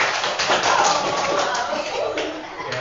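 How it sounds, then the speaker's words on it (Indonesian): Pupils in a classroom clap together, a brief, busy patter of many small hands mixed with shuffling and voices, close and lively for a few seconds. "tepuk tangan kita semua."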